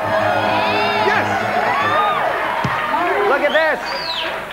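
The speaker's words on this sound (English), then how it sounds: "And the Silver Dome crowd is going crazy." A stadium crowd in the Silver Dome cheers and whoops loudly on a 1988 MTV game show, with shouts and high yells rising and falling over a dense roar, mixed with excited voices.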